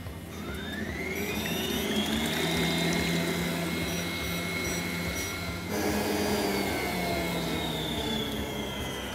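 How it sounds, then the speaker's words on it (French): Egg whites being whipped, likely with an electric mixer, for a hazelnut and coffee Christmas log cake; a loud, steady motor whine with a rising pitch that drops briefly and resumes. "Et maintenant on va monter les blancs d'œufs."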